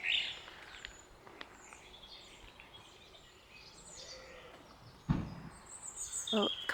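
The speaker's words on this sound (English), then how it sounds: "Oh, the birds are still being very noisy." Birds call near a pond on a winter nature walk, with a few sharp chirps at the start and again near the end over a soft, steady outdoor hum.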